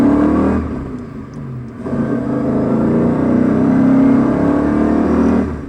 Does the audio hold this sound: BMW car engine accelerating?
yes